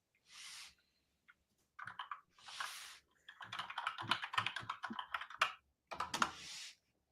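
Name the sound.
typing on a mechanical keyboard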